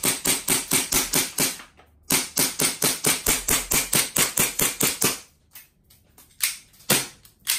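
A Hicapa 5.1 T-Rex Force gas blowback airsoft pistol fires close up in fast strings of sharp snapping shots, with a few brief pauses before later bursts.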